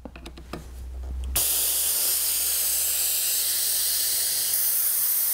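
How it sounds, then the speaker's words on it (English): Compressed air bleeding from an FX Wildcat MkI air rifle through a loosened brass plug on the side of the action: a few light clicks, then a sudden loud, steady hiss that continues close and alone. "The quickest way and safest way to bleed the pressure is by this, on the left hand side of action, there's a brass plug here."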